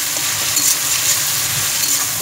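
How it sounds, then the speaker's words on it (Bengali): Chopped capsicum fries lightly in a pan, giving a loud, close, continuous sizzle with faint stirring, and no talking. "ক্যাপসিকাম কুচি আমি তার মধ্যে দিয়ে দিলাম, এবার এটাকে হালকা একটু ভেজে নেব"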